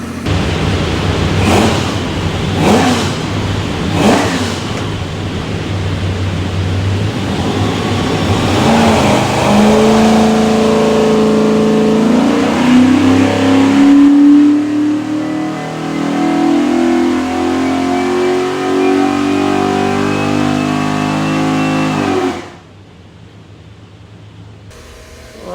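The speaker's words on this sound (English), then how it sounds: "we'll go in there and make a pull on it." A stack-injected 416ci LS3 V8 roars through a dyno pull, loud and close, its pitch climbing steadily over many seconds before cutting off sharply to a low idle rumble.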